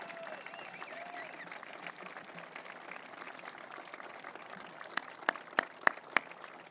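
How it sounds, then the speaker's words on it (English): Faint, distant applause rises from the audience at a Canadian ceremony marking the upcoming opening of the Gordie Howe bridge, followed by a few sharp, separate claps near the microphone. "Stand up, get some applause."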